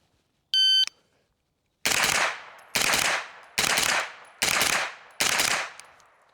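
An AR rifle with an upgraded trigger fires rapid double shots outdoors, five loud sharp reports at regular intervals each ringing out, preceded by a brief electronic beep from a shot timer.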